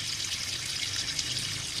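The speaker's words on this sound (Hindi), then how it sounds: "ताकि पानी चल रहा है, इन्हों अच्छी तरह धोने।" Running water flows steadily over herbal ingredients being washed, a constant close hiss and trickle with no voices.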